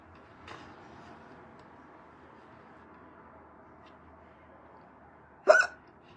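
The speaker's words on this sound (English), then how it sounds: "the big old hiccup." A single loud hiccup bursts out sharply near the end, following a faint earlier catch, against an otherwise quiet indoor room.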